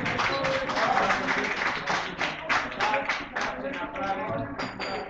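Applause from the audience at the IT League 2016 award ceremony, a steady wash of many hands clapping at once that keeps going for several seconds with even loudness and dips slightly near the end.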